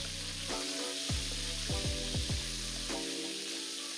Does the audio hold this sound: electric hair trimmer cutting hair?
no